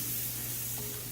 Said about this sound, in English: we're going to go ahead and add the sausage. We're just going to fry them down.